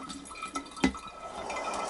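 Hydrochloric acid and bleach solution holding dissolved RAM gold-recovery material, poured into a filter and trickling through, a soft steady liquid wash with one brief splash partway, close and quiet with no talk.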